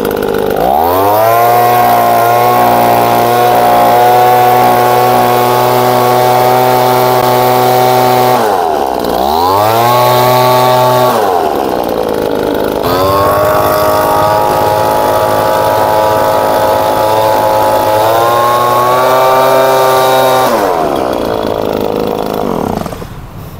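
A two-stroke engine leaf blower roars loud and close, holding a steady high-revving drone with two short dips where the throttle drops and climbs back, then cuts off at the end.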